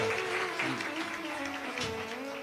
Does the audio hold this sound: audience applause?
yes